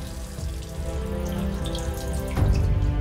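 Tap water runs steadily into a sink for handwashing in a children's educational cartoon, a continuous splashing wash that swells slightly louder near the end, with no talking over it.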